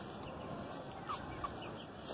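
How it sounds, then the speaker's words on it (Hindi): A hen and a rooster cluck with two brief, faint calls over a steady outdoor background hiss. "ये हमारी पहली वाली मुर्गी है और ये हमारी न्यू मुर्गी है"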